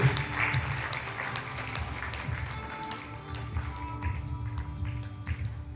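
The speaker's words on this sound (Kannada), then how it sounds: "ನಮ್ಮೆಲ್ಲರ ಚಪ್ಪಾಳೆಗಳು ಜೋರಾಗಿ ಬರಬೇಕು." Audience at a microfinance scholarship distribution ceremony claps, a scattered, moderate patter of hands that stays fairly even and slightly thins toward the end.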